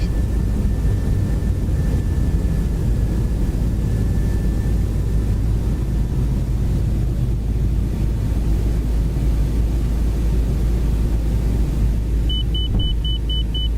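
A Toliss A320neo airliner rolls down the runway for takeoff in X-Plane 12, a loud, constant engine rumble and roar, with a faint tone beeping near the end.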